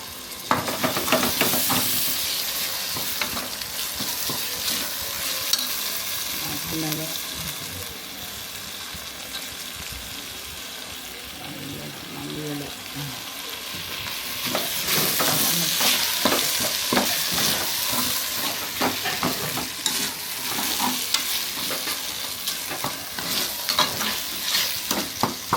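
Ginger garlic paste, tomato and chillies fry for beef biryani, with a steady close sizzle and hiss under repeated spoon scrapes and stirs, and no talking.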